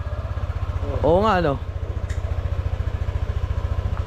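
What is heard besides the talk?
motorcycle engine running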